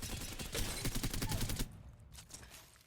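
Rapid automatic weapon fire from a shooter game, Apex Legends, while the player strafes side to side; a dense burst of shots for about a second and a half, then a couple of fainter trailing shots.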